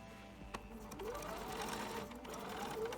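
A sewing machine runs steadily with a straight stitch, sewing an elastic waistband into a dress; a continuous close mechanical hum and whir, paced slowly, with a single click near the start.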